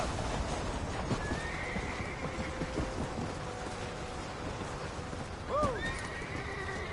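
Horse in the Red Dead Redemption video game neighing with a rising whinny near the end, over steady hoofbeats and galloping; a man calls out briefly.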